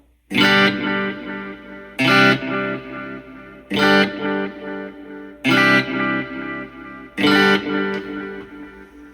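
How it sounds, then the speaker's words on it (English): Guitar played through a Wampler Catacombs delay reverb pedal on its faux tape echo setting: five loud strummed chords at even intervals, each followed by a warm, decaying echo tail. "we're going to go to the faux tape echo."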